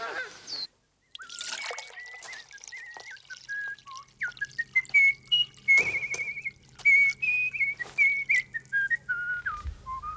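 A whistle plays a wavering, bird-like melody of short tonal notes, fairly clear and close, with scattered rustling and knocks around it.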